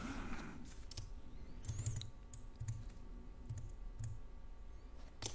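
Sparse computer mouse clicks during photo processing in Capture One 8, a handful of faint, scattered ticks over a quiet hum, no talking.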